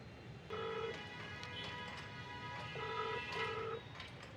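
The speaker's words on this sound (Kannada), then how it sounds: "ರೆಸ್ಟೋರೆಂಟವ್ರಿಗೆ ಫೋನ್ ಮಾಡೋಣ" A phone rings out while calling a restaurant that has not picked up, giving two double-pulse ringback tones, steady and moderately loud, over faint street background noise.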